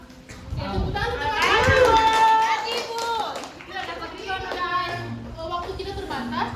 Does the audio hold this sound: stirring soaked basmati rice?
no